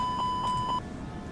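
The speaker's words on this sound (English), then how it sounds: "Sorry about the beeping." A steady electronic warning tone from a flight simulator game's Airbus A321 cockpit pulses in short repeated beeps, then cuts off abruptly, leaving a low hum.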